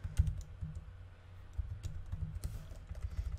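Keys on a computer keyboard clatter in bursts as code is typed into an editor, quiet, close clicks with short pauses between runs.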